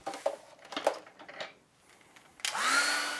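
Soft brush taps on watercolour paper give way to a hair dryer switching on close by, its steady breathy roar with a thin whine running to the end as a sunset-sky painting is dried.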